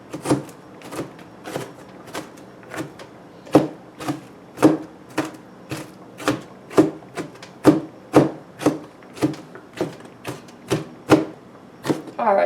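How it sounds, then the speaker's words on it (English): A knife chops food finely on a wooden board for spaghetti sauce, about twenty crisp, evenly paced strikes at close range with no voices. "That's finely chopped enough for me."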